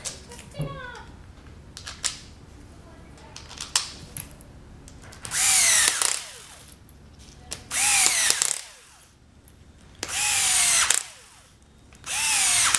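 A power screwdriver drives screws back into an Andis hair clipper during reassembly, several loud whirring bursts of a second or two each, separated by quieter handling clicks and someone speaking.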